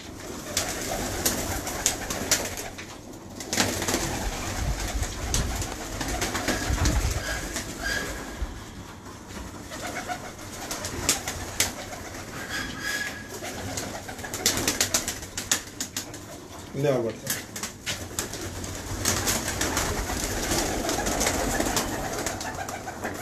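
Sialkoti pigeons cooing close by in a loft, with soft repeated coos over a busy, rustling background and the occasional flutter, sustained throughout with no clear speech.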